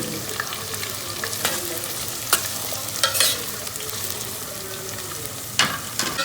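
Onions, green chilies and curry leaves fry in oil for Nellore fish pulusu, a constant close sizzle punctuated by a few sharp spoon scrapes and clanks against the pan.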